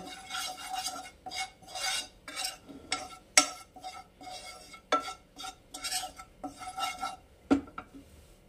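Spices are dry roasted without oil in a pan while a utensil stirs them, producing repeated scraping and clinking strokes in an uneven rhythm, close up with short pauses between movements.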